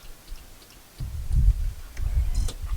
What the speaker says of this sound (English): Got solenoid's ticking.